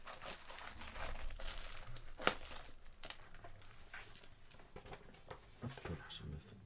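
A wrapped product is cut open with a knife, bringing close crinkling and tearing of packaging in short uneven bursts, with one sharp crack in the middle.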